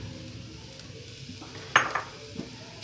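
Boiled, shredded chicken and capsicum briefly frying in a pan, a soft sizzle under clinks and scrapes of a spoon against the pan, with one sharper metallic knock.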